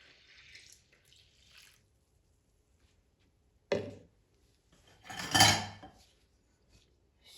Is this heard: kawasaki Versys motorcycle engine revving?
no